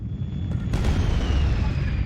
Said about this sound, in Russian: Все взрывается, что-то летит.